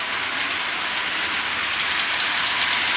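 A model railway train runs steadily on a layout, a continuous rolling rumble with faint rhythmic clicking of wheels over rail joints, close and fairly loud with no talk.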